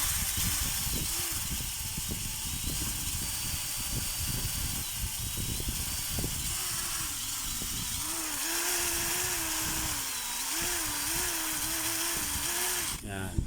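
A power drill with a faulty switch runs in fits and starts, its motor whine rising and stalling unevenly and running slow, heard close up over a hissy background while someone talks throughout.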